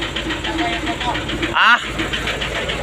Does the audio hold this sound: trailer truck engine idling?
yes